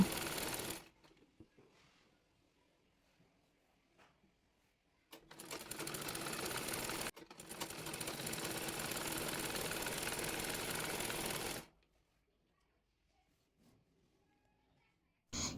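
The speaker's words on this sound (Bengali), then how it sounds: "এরপর কাপড়টি মুড়িয়ে চাপ সেলাই দিয়ে নেব" A sewing machine stitches down folded fabric for a designed salwar pant, running in a short burst and then in a longer steady whir of about six seconds, with silent pauses between.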